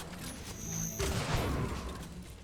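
Flak cannon fire in the arena shooter Unreal Tournament during a competitive duel on a small map, a burst of heavy booming blasts kicking in halfway through over steady game noise and faint tones.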